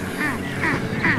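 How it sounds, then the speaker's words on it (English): Nesting seabirds at Saksun in the Faroe Islands, dive-bombing hikers, give three harsh, quacking calls at a steady rhythm, fairly close overhead against a windy outdoor background. "we have been dive bombed several times by these birds"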